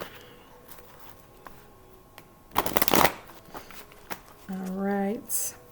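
A deck of oracle cards is shuffled by hand in one brisk, loud riffling burst near the middle, surrounded by quiet room tone and a few soft handling sounds.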